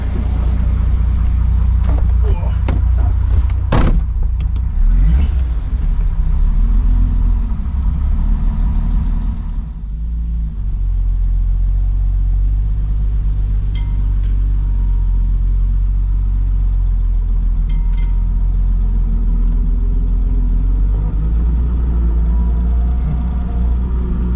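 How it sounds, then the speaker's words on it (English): A 1937 Pontiac business coupe with a six-cylinder engine and three-speed gearbox rumbles loudly from inside the cabin, the engine note shifting as it pulls away and settling into a steady drive. "6-cylinder, 3-speed. Go for a little ride."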